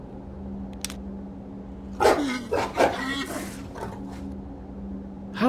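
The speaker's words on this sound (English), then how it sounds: "How delightful, a clockwork dog." A clockwork robot dog in the video game Septerra Core lets out a few sharp barks in a quick cluster, over a steady low game hum.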